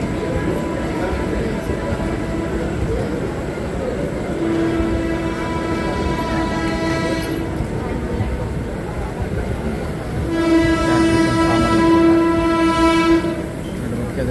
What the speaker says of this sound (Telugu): ట్రైన్ వస్తుంది మధ్యలో